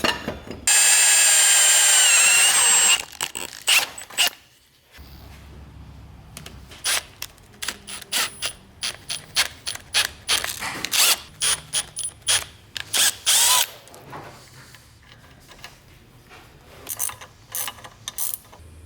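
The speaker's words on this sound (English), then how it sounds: "I'm just gonna drill and tap right into the water pump." A drill and tap bite into the metal water pump of an FC RX7 engine to fit a 1/8 MPT fitting. A long steady whir comes first, then a run of short ratcheting bursts and clicks, close and loud.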